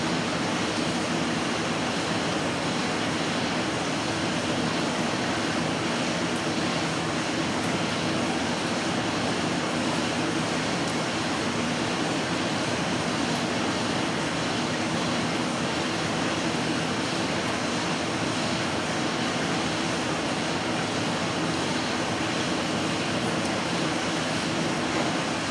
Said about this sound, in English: Pretty insane how crisp the water is coming out.